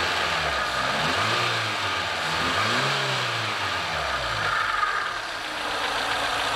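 A Renault Twingo engine revs repeatedly in rising and falling sweeps over a steady running drone, close and continuous.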